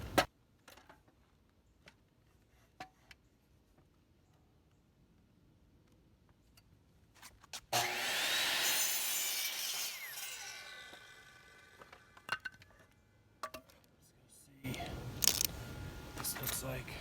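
A handheld saw cuts through wood outdoors on a driveway, a loud sustained burst of rasping cutting in the middle, framed by quieter clicks, handling knocks and a later stretch of noisy activity.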